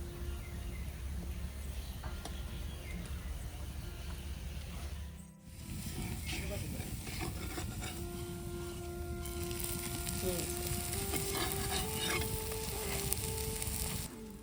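Roti frying fully submerged in deep oil for a crisp result, a continuous loud sizzle and crackle close by, briefly dipping once before resuming and carrying steadily under faint kitchen clatter.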